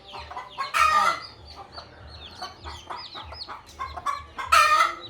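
A nearby desi hen with twelve newly hatched chicks clucks and chatters in quick bursts, with two loud squawking calls standing out at the start and near the end.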